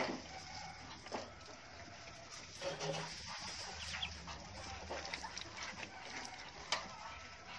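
Week-old Muscovy ducklings eating and drinking, with soft scattered pecks and chirps under a steady background noise and faint poultry-like clucks nearby.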